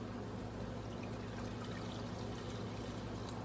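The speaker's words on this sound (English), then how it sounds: "So I'm going to just pour it in my jar." Vinegar poured into a jar for pickling jalapenos, a steady continuous liquid pour with a faint trickling hiss, close and quiet, with no talking.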